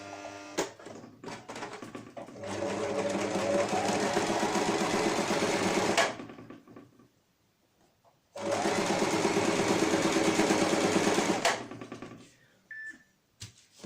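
A sewing machine stitches a cloth face mask with a 0.5 cm seam allowance, running in two loud, steady bursts of rapid mechanical whirring separated by a short pause, with light handling clicks and rustling between.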